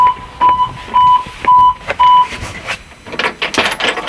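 Renault Trafic van reversing sensor beeping in a regular series of five short, sharp electronic tones about half a second apart, close and fairly loud, followed by clattering and handling noises.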